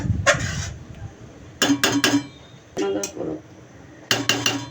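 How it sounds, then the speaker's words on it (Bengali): A lid clatters onto a cooking pan of hilsa fish in mustard curry in a home kitchen, giving several short metallic clinks and knocks in separate bursts against a low background. "এখন পাঁচ মিনিট ঢাকনা দিয়ে রাখবো"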